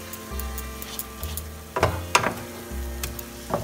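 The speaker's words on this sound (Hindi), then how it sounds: "स्पैचुला का बैक साइड से थोड़ा सा हमें मशी करना है इसी तरह।" Grated carrot halwa pressed and mashed with the back of a spatula in a pan over medium-low flame, giving soft scraping, squelching strokes and occasional sharper clicks against the metal over a low steady sizzle, close and fairly quiet.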